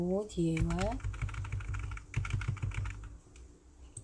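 Computer keyboard typing while entering an Excel date function: a quick run of close, crisp key clicks, with a voice speaking over the start.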